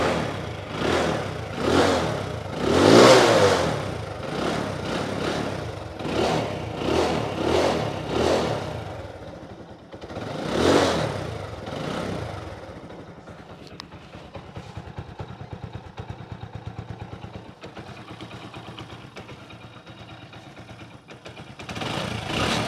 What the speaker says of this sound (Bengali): গাড়ির সাউন্ড আপনারা শুনতে পারলেন